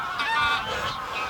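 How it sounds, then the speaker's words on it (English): Geese honk as they fly overhead outdoors, a loud, dense cluster of overlapping nasal calls that keeps going with no break. "as you can hear, geese flying overhead"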